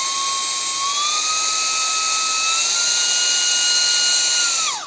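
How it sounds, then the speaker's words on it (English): A steady, loud electric whine comes from a balloon inflator motor held running, and its pitch steps upward as it moves through low, medium and high settings. It winds down abruptly at the end, with no voices. "I'm gonna hold this button and then flip through the settings so you can kind of hear the different low,"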